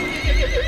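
A horse gives a brief, loud neigh over a heavy low rumble, heard close.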